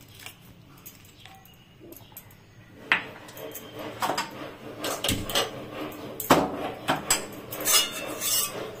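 Construction work at a neighbouring house rings out as irregular knocks, bangs and clatter, loud and close, growing busier and more frequent after the first few quiet seconds, with no talking.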